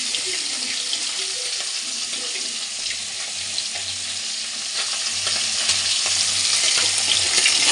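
Puti fish frying in hot oil in a pan, a steady bright sizzle and crackle that holds loud and continuous throughout, with faint low clatters of a utensil at moments and no talking.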